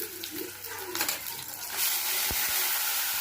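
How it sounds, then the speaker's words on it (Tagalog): Tomatoes sautéing in a pan for a mung bean dish, a steady close hiss and sizzle that swells louder in the second half, with a brief scrape or clink near the end. "Nagisak si kamatis."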